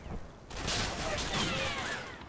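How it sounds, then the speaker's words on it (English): Bren light machine gun fire crackles in a World War II Normandy hedgerow battle in Combat Mission, a dense burst of rattling shots at moderate distance with whistling streaks over it. "Bit of Bren fire there coming in"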